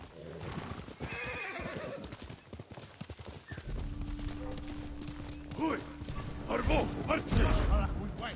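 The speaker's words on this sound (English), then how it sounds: "Horse!" Horse hooves clip-clop with a whinny amid busy game-like sounds and a steady hum in the video game Ghost of Tsushima, while a voice talks over parts of it.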